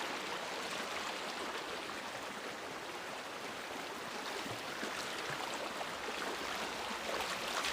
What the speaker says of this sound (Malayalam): നല്ല ഒഴുക്കുണ്ട് വെള്ളത്തിൽ, നല്ല ശക്തിയിലാണ് പോയിക്കൊണ്ടിരിക്കുന്ന വെള്ളം